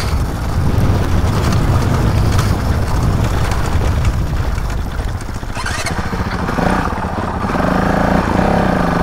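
Enduro motorcycle ridden off-road across farm pasture in New Zealand, its engine a loud, continuous close-up drone with a rough, pulsing rhythm throughout.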